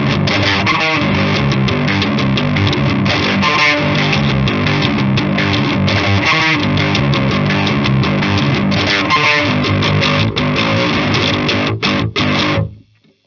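An electric guitar runs through a Dirty Tree boost pedal cranked up and plays loud, dense distorted riffs with steady rhythmic chugs, then stops abruptly near the end.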